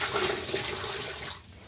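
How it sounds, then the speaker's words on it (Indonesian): Water poured from a dipper to flush a bus toilet, a loud close splashing gush that drains and fades out after about a second and a half. "kita siram nih pakai gayung"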